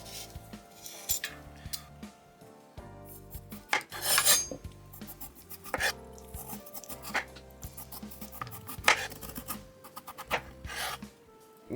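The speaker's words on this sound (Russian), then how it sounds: "Очищаю свеклу и нарезаю ее тонкими ломтиками." A knife slices peeled beetroot into thin slices on a board, giving quiet, uneven scraping and tapping strokes close by, with light clinks of utensils and dishes in between.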